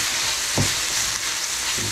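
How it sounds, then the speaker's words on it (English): Potatoes frying in olive oil in a skillet, with a steady, close, dense sizzle throughout and a soft scrape or stir partway through. "Frying up."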